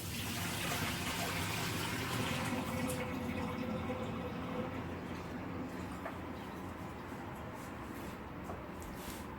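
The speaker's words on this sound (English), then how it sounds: "And then I'm going to take that and I'm going to dump it into the sink" Water from an Aerogarden basin pours into a kitchen sink in a continuous splashing gush, fairly close and steady, tapering slightly toward the end.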